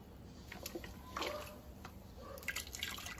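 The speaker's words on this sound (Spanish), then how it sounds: "lo voy a colar. Lo voy a pasar por este colador." Peanut and sesame horchata drips and trickles through a kitchen strainer, making a soft, sparse run of small drips with a faint liquid patter over quiet background hiss.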